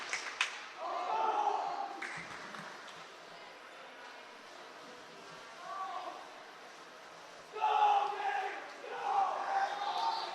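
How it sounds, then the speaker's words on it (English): Swim teammates cheer for a boy on his relay leg at a high school swim meet in an echoing pool hall, shouting in bursts that rise and fade against a quiet background. "His teammates are cheering and pushing him for his leg of the relay"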